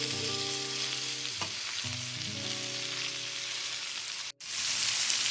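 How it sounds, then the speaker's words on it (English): Cabbage frying in a pan gives a loud, steady sizzle while it is stirred, with a brief scrape partway through and a short cut to near silence just before the end. No one speaks. "Now all you want to do is give the cabbage a good mix."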